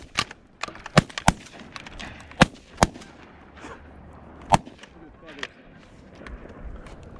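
Shotgun blasts during a goose hunt over sheet water, several sharp loud reports in an irregular volley, some overlapping, with hunters talking and calling out between shots.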